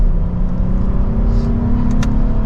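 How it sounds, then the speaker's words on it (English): Sustained engine and exhaust drone from a 2024 Lexus IS 350 F Sport sport sedan accelerating, steady and fairly loud from inside the cabin with no talk. "Nice exhaust note to it"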